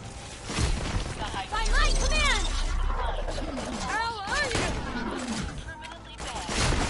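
An E-Tech gun in a Borderlands game fires in crackling bursts with sharp shattering hits, while someone talks over the shooting for much of the time.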